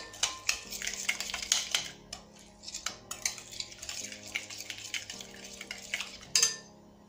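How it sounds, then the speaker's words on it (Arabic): Meat being mixed by hand with spices, salt and vinegar in a bowl for Moroccan gueddid dried meat, with repeated close clinks and scrapes of utensils against dishes and wet squelching, steady and uneven in rhythm, no talk. "كنخلطو مزيان هاد المكونات هادو"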